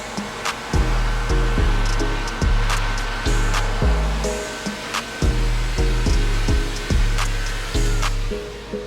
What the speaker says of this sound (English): he loves the heat of the dryer, and he does not mind the noise